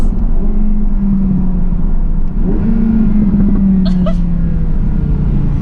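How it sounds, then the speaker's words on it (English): An Audi R8 V10 engine pulls hard through first, second and third gear, loud and close, rising in pitch with each pull and dropping briefly at the shift before climbing again. "I am really not getting bored of first, second and third gear and that noise."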